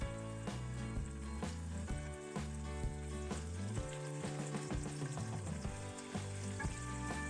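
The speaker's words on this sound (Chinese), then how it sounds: "先把豆腐煎一下" Tofu pan-fries in hot oil in a home kitchen wok, a soft steady sizzle running continuously under louder background music, with no talking.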